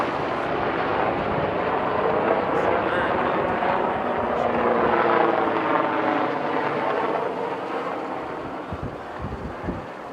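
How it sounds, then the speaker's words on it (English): Military gunship helicopters pass over mountain terrain near Mt Potosi, a loud rotor drone with rhythmic beating that swells and slowly fades, with people talking underneath. "Those are gunships."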